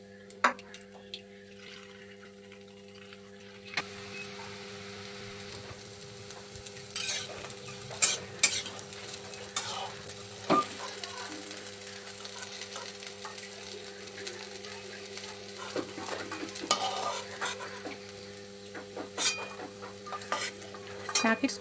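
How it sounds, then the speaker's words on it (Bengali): Semolina (suji) nuggets frying in oil in a pan, a continuous low sizzle broken by occasional utensil clinks and stirring scrapes, close and moderately loud with no talk. "নাগেটসগুলো সব ভেজে নেওয়া হয়ে গেছে।"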